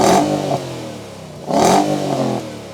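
Two sharp throttle blips from a 2024 Nissan Patrol Warrior engine, each a short loud roar that quickly falls back to a steady idle, heard close by.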